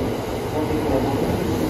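A steady, dense rumble of a Thunderbird express train running along the tracks in Japan, continuous and fairly loud with no breaks.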